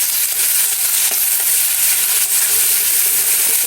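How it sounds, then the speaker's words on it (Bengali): Onions and prawns fry together in a hot pan with a loud, continuous sizzle and crackle that stays close and steady throughout, with no talking. "এখন পেঁয়াজ আর চিংড়ি মাছগুলো একসঙ্গে ভাজা ভাজা হবে।"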